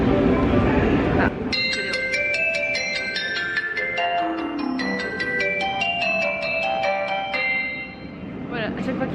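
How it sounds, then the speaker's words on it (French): A bright electronic chime melody plays for several seconds over a Seoul subway station's background rumble, a short tinkling tune of stepped tones announcing a train. "quand le métro arrive, il y a une petite musique qui arrive"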